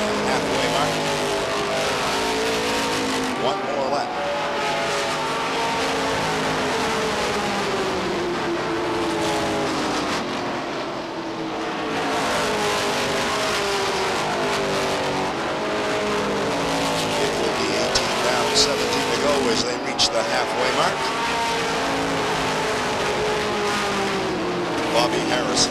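Stock cars race around Beech Ridge Motor Speedway in 1991, their engines roaring steadily as the pack passes and sweeps through the turns. A loud, continuous race-car din sits under running commentary from an announcer.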